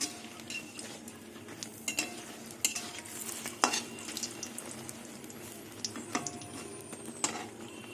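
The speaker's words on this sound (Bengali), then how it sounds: "বেগুন ভাজা হয়ে গেছে এবার বেগুনগুলো তুলে নেব" Fried brinjal being stirred and lifted out of hot oil, a soft ongoing sizzle broken by frequent sharp clinks and scrapes of a metal spatula against the pan, fairly quiet overall.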